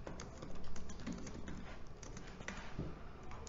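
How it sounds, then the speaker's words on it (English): Someone types a message on a computer keyboard, giving a quick, uneven patter of close, soft key clicks over a low background hum. "Let's check out by typing a message"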